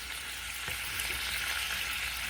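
Chili meat sizzling in an overcrowded pan, a continuous, even crackle and hiss of frying with a faint clink near the start, close and steady throughout.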